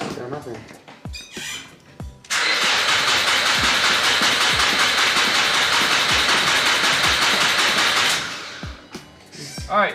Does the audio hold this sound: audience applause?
no